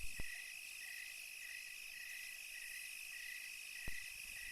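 Crickets chirp at night around an empty, deserted station in a cartoon, a steady high insect trill with a couple of faint clicks, quiet and without speech.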